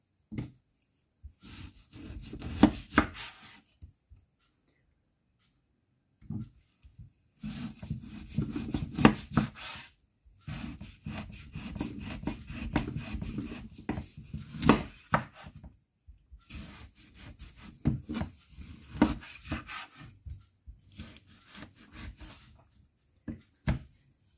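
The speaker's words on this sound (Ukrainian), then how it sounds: "Нарізаємо, я буду нарізати на невеличкі шматки, на такі порційні, щоб взяв кусочок і з'їв." A knife saws and chops through frozen fish on a board, cutting it into small portion pieces in repeated rough, grating strokes with brief pauses between cuts.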